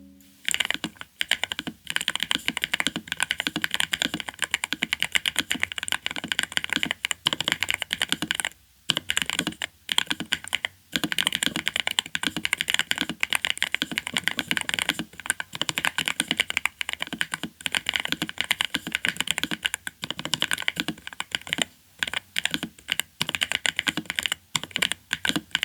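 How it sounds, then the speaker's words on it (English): Rapid, continuous typing on a NuPhy Node75 low-profile mechanical keyboard, with crisp clacky keystrokes heard up close through an external microphone and only a few brief pauses. "here's a typing test with an external microphone"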